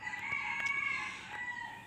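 Free-range chickens let out on a sunny winter morning, with a rooster crowing in a sustained call over close clucking from the flock, no voices.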